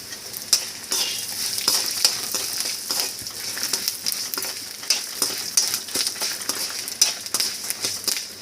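Urad dal and torn tamarind fry in oil for curry leaf thuvaiyal, a steady bright sizzle with scattered scraping stirs and small clicks of a spoon against the pan, close and continuous.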